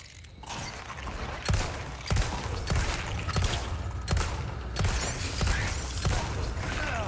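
Rapid gunfire in Resident Evil 4 crackles in repeated bursts with sharp thumps spaced about every second, over a dense clattering mechanical background.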